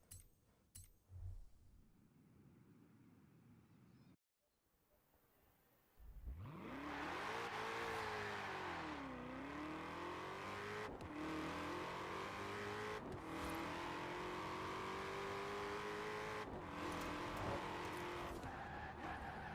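A turbocharged Ford Mustang GT350R in the Forza racing game revs hard after a brief quiet stretch, its loud engine rising and falling in pitch with a dip mid-run, then holding a sustained high drone.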